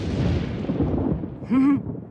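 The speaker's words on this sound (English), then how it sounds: "I saw lightning. I'm counting until the thunder" Thunder from a storm in an animated episode rumbles low and loud for over a second, fading out, followed by a brief voice exclamation near the end.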